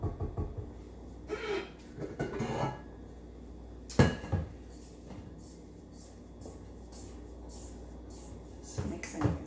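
Cookie-dough-like chocolate chip batter gets stirred in a bowl, with scattered scraping and knocking strokes, one sharp clack, and quiet stretches between, close and soft, no talking.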